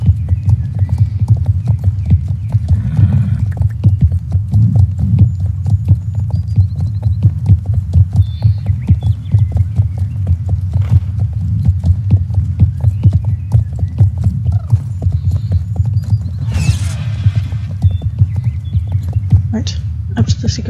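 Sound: horse hooves clip-clopping in the video game Star Stable Online

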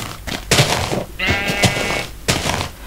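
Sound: sheep bleating in the video game Minecraft

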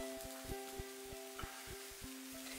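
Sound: cinnamon-topped batter sizzling in a frying pan

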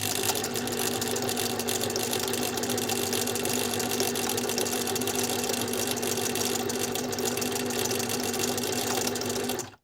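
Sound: Singer 6785 sewing machine stitching a buttonhole

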